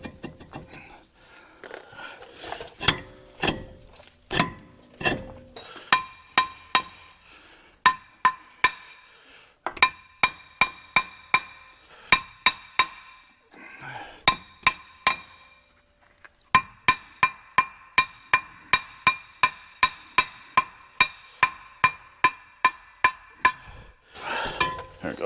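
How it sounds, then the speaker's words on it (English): Sharp metallic clanks from a hammer striking a rusty brake rotor on a 2001 Ford Super Duty, repeated in irregular runs and then a steady rapid series, ringing briefly after each hit. "Sometimes these, you have to hit these with a hammer"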